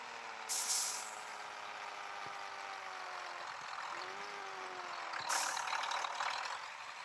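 A Mack Anthem truck in World Truck Driving Simulator gives two sharp hissing air-brake releases, one near the start and one later, over a steady idling engine drone.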